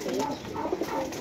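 Pigeons from a flock of fancy breeding pairs coo in low, soft, overlapping murmurs that run continuously through a short stretch, fairly close and moderately quiet.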